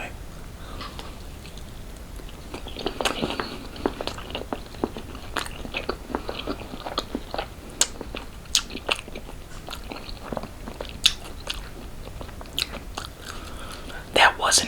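Chinese food with peppers is crunched and chewed close to the mic, with repeated bites and wet mastication sounds recurring steadily throughout.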